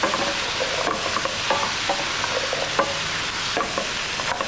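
Winter vegetables including parsnip tossed and frying in a pan, a continuous sizzle with repeated stirring scrapes and clatters, close and steady with no talk.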